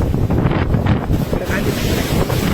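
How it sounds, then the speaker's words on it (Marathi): Strong wind roars across an open village in the Marathwada region, kicking up dust. It buffets the microphone with a loud, continuous rumbling gust that never lets up. "गावाकडचं वारं पाहू शकता एवढं भयानक आहे गावाकडचं वारं"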